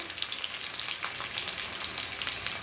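Stuffed green chillies fry in a pan over a medium flame, giving a continuous, close, bright sizzle with faint crackling pops. The hiss stays even and steady throughout, with no voices.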